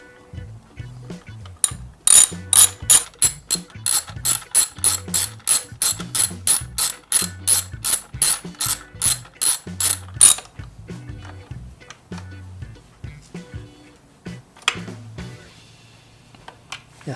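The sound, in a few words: ratcheting a 6mm hex on motorcycle swing arm spools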